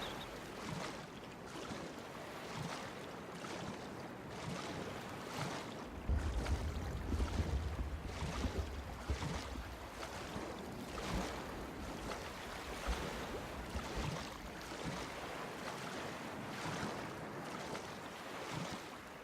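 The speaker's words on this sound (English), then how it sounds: "I didn't even know for the longest time you could swim in this game." A large Black Orc character swimming in open water in an online game: soft, regular splashing strokes over a continuous wash of waves and wind, faint and distant-sounding.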